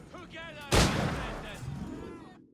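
A sharp, loud gunshot blast from a shooter video game about a fort assault, sounding once after a quieter stretch and then trailing off into a long, noisy decay.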